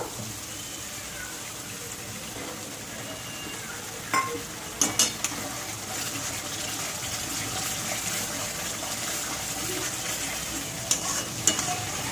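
Poppy seed paste being stirred and fried with spices in a pan, for a yogurt-poppy seed chicken curry: a steady soft sizzle with a few scraping stirs of the spoon, close, with no talk.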